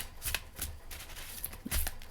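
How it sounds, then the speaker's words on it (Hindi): Tarot cards are shuffled and drawn by hand. There is a quick series of soft, close riffling and flicking sounds with light taps in between. "एक कार्ड लेते हैं और आपके लिए चुनते हैं दो कार्ड्स"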